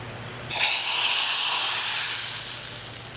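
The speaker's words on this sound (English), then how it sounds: "That's the sizzle that you want to hear." Roasted garlic hits a pot of Trinidad-style dal with a sudden loud sizzle that starts half a second in and holds as a steady bright hiss, easing slightly toward the end.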